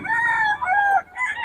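A stag rooster from Pampanga crows once, loud and close, a drawn-out wavering call that breaks briefly before a final clipped note.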